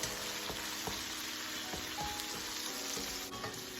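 Chicken pieces fry in a hot skillet with a steady, close sizzle, broken now and then by soft clinks and stirring noises.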